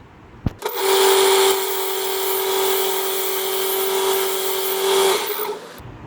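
A knife blade's second side is sharpened in a commercial sharpening job, giving a steady, loud grinding hiss over a constant motor hum. It runs unbroken for about five seconds after a brief click at the start.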